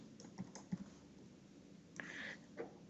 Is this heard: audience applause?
no